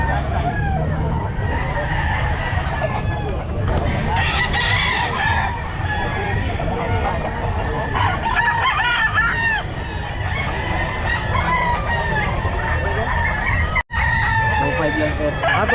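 Gamecock roosters crow again and again at a busy pet market, loud overlapping calls and clucks filling the air nonstop, with faint background voices and market bustle.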